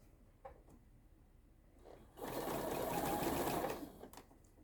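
A sewing machine stitches a straight seam on a Mariner's Compass quilt block, a steady close mechanical whir lasting about two seconds, framed by faint fabric handling before and after.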